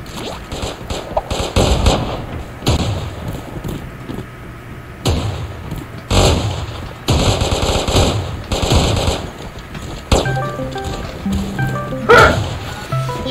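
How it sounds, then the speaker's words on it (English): Shotgun blasts and rapid gunfire in the online shooter Creative Destruction, a series of loud bursts and bangs scattered through the clip, with game effects and a tonal chime near the end. "Let's see, shotgun."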